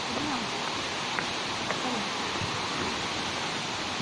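The Putuk Truno waterfall roars as a steady, dense wash of falling water. It fills the whole scene at moderate loudness, with faint scattered sounds but no clear speech over it.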